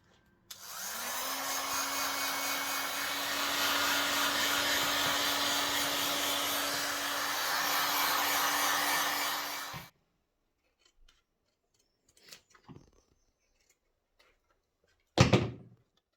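A heat gun blows a steady, loud whooshing hiss with a faint constant whine for about nine seconds while drying Alcantara trim on a BMW centre console, then cuts off, leaving quiet with a few small clicks and a sharp knock.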